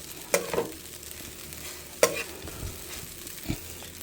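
Rice fries in a pan over a strong, small blue flame, a soft continuous sizzle broken by three sharp scraping stirs spaced a second or two apart.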